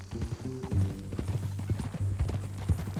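Horse hooves clip-clop steadily in the video game Red Dead Redemption 2, an even walking rhythm of close hoofbeats under a continuous low musical drone.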